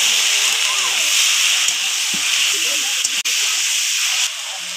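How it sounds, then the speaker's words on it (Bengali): Chicken pieces frying with chili powder in a pan give off a steady broad hiss and sizzle that runs close and loud throughout, with faint low clatter beneath and a brief dip near the end. "লঙ্কার গুঁড়ো দিয়ে কিছুক্ষণ কষিয়ে নিয়ে দিয়ে দিব মাংস। মাংস কিছুক্ষণ কষিয়ে নিব।"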